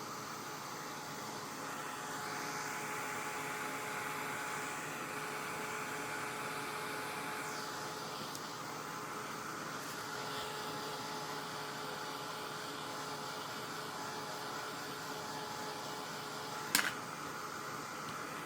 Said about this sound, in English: I'm going to go ahead and dry this. Make sure it's good and dry.